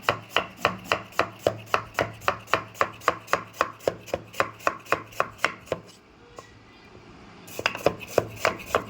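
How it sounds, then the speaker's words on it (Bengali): Knife chopping carrots on a board, a steady rhythm of about two dozen crisp, close knocks, a short pause, then a few more quick chops. "এই দেখুন গাজরগুলো কেমন করে কাটিয়ে নিই আপনাদেরকে দেখাই"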